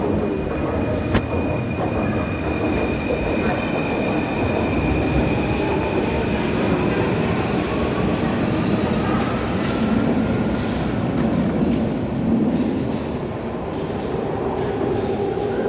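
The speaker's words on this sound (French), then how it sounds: "Je suis maintenant dans le métro Ligne 9." A Paris metro Line 9 train rolls along underground, a loud continuous rumble of wheels on rails with a thin high squeal running through and steady carriage noise from inside the car.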